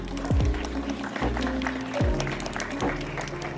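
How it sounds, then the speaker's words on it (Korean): Wedding guests applaud at a ceremony hosted by the groom's younger brother, with steady, moderately loud clapping mixed with voices and drawn-out whoops rising and falling throughout. "내빈 여러분께서는 큰 박수로 답례해 주시면 감사하겠습니다"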